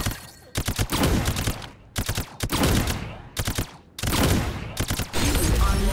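Loud automatic gunfire from the battle royale shooter game Farlight 84, coming in repeated dense bursts separated by short pauses, with heavy sustained volume and no voices over it.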